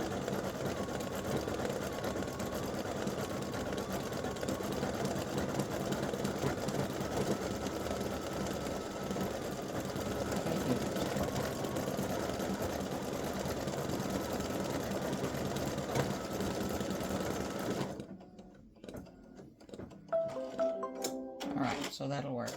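Home sewing machine running steadily as a side seam is stitched on an Easter Peep-ers girls and boys outfit; a continuous close mechanical whir for about eighteen seconds, then it stops, leaving quieter handling sounds.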